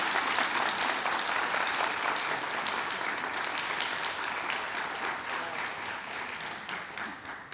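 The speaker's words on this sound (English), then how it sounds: "Have another round of applause for Joanne, please." Steady applause from a crowd, dense clapping that holds at an even level and tapers off slightly toward the end.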